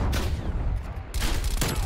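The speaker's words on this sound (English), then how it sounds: "This is basically like a rapid fire burst weapon. It shoots so fast" A CARV.2 tactical rifle in Black Ops Cold War fires in fast bursts: two loud, dense volleys split by a brief lull, close and with no voices over them.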